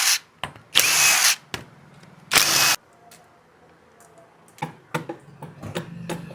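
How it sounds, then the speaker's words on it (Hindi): A power tool buzzes in two loud bursts as it undoes clutch cover bolts on a Bajaj Pulsar 220F, followed by scattered clicks and metallic taps of parts being handled. "अब चलिए यहाँ पे करते हैं क्लच चैम्बर वाले सभी बोल्ट को ओपन।"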